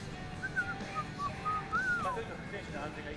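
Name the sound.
person whistling a tune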